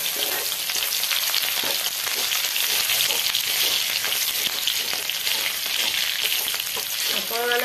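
Chillies and garlic fry in hot oil, making a dense, even sizzle with scattered crackles that holds steady and close the whole time.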